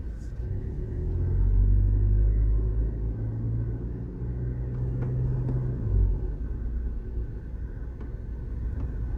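Road traffic in downtown Kingston, Jamaica, heard from within it: a steady low rumble of car engines that swells and fades, with a passing vehicle and faint distant clatter, no talk.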